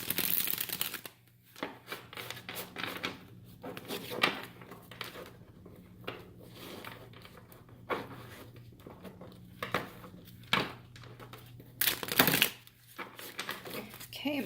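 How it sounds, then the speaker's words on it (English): Tarot cards being shuffled by hand in repeated crisp riffles and slaps, close up, with quiet pauses between bursts. "I'm just going to be shuffling this way now and see what cards decide to present themselves."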